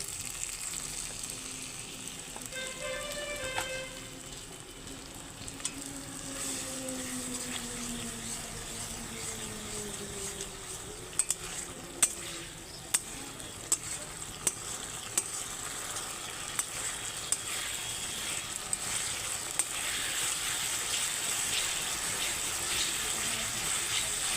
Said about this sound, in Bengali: মশলাটা ধরে না যায় তার জন্য আমি সামান্য জল দিয়ে দিচ্ছি